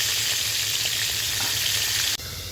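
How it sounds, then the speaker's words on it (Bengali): Pointed gourd (potol) pieces frying in oil in a pan until reddish-brown, a loud, dense, continuous sizzle that briefly dips near the end. "এইভাবে আমি পটলগুলো লাল লাল করে ভেজে নেব"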